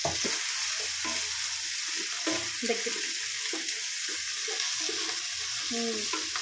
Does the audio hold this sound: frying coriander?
yes